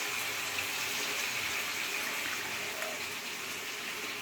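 Water pours steadily from a tap as a little is added to a paste of green chillies and ginger, a continuous soft gush with no talk over it.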